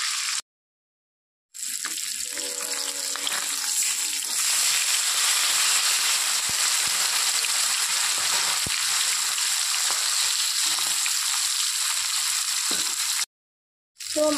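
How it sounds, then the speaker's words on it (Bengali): Fish pieces frying lightly in hot oil, a steady close crackling sizzle that runs nearly the whole time after a short silent gap, with faint stirring clatter early on and no talking. "অল্প অল্প করে ভেজে নিচ্ছি। বেশি খুব একটা কড়া করে ভাজবো না, একটু হালকা করে ভাজবো এটা।"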